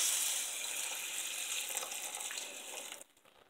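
Tap water runs into a cooking pot to measure one cup for instant rice, a steady splashing pour that stops abruptly near the end.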